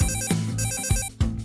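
A phone rings with an incoming call, a bright electronic ringtone of repeated tonal bursts separated by short gaps, loud and near.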